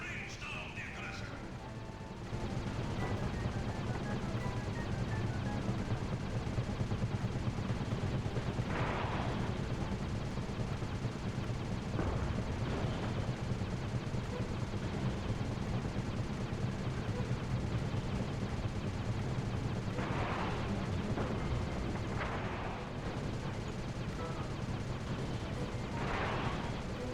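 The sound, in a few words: gunfire in the video game Sly 2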